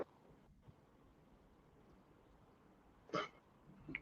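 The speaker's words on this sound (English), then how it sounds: "What type of cough is that?" One brief, fairly sharp cough stands out from a quiet room near the end, followed by a fainter smaller burst, with no talking around it.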